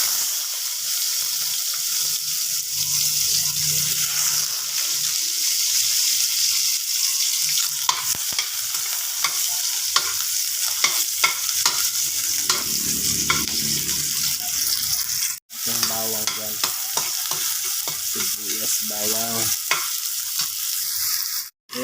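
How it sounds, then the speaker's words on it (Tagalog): Onions sizzle and crackle in hot oil in a pan for a Filipino pinakbet, a steady close frying hiss with scraping stirs and a brief clatter near the end. "gista na tayo ng sibuyas"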